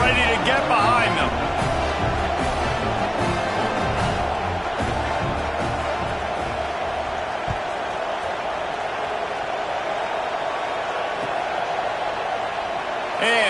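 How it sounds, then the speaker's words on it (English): A football stadium crowd roars steadily before a kickoff in a college football video game, a dense wash of cheering that stays loud throughout. "this crowd now ready to get behind them"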